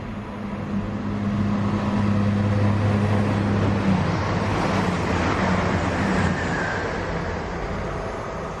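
A freight train rumbles past at fairly close range, a loud, broad, steady roar of wheels and wagons that holds for several seconds before easing off slightly.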